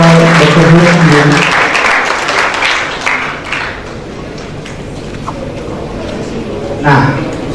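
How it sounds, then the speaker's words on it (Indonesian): Seminar audience clapping for the talk show's speakers, a dense crowd applause that is loud at first, then thins and fades, with voices talking over it and a brief swell near the end. "tepuk tangan untuk para narasumber kita pada hari ini"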